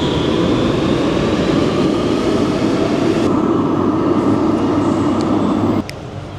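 An Algiers metro train rolls through a station with a loud, continuous rumble and hiss, then the noise drops abruptly near the end as it slows or passes.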